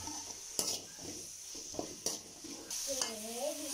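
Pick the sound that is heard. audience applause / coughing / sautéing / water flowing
sautéing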